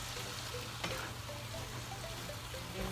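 Ampalaya being stirred with bagoong in a hot pan, a steady close sizzle with scraping stirs and light clinks, no voices.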